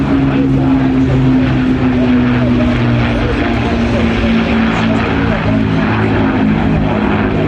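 Avro Lancaster PA474, a four-engine propeller bomber, drones overhead at an air show flypast, a loud steady engine hum with a held low tone, while a commentator talks over it.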